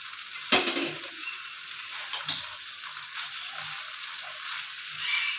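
Cooked rice and prawn curry are stirred in a pan over a low gas flame: two sharp scraping strokes stand out, then gentler spoon scrapes over a faint sizzle.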